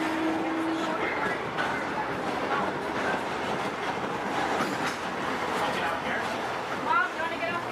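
Disney park railroad train rolling along its tracks at Walt Disney World, a steady close rumble of wheels and carriage noise filling the whole stretch, with passengers talking faintly underneath.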